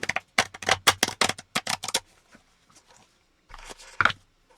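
APBA Soccer game cards being shuffled by hand at a tabletop, a quick burst of crisp riffling snaps followed by a quiet pause and then a couple of shorter card flicks close up.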